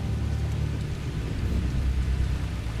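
Steady rain in the VEIN video game, a continuous dense hiss with low rumbling underneath and no voices.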